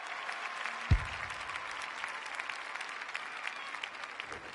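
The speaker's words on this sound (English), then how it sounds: "The crowd noise tells you all you need to know" Stadium crowd in the AFL26 Australian football video game, a West Coast Eagles match, cheers and applauds in a sustained broad wash with a single sharp thump early on.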